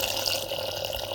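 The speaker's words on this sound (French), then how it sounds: "Donc là, on verse l'eau chaude." Boiling water is poured over aich, small Algerian pasta pellets, in a cooking pot. It makes a steady, continuous splashing and hissing pour that stays moderately loud for the whole stretch, with no talking.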